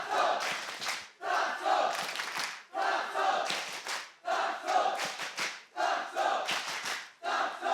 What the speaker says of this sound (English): The crowd digging deep now to get behind Gentlemates.